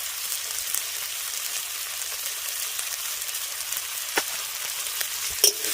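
Turmeric and chili powder fry in hot oil with a soft, even sizzle and a couple of light utensil taps near the end.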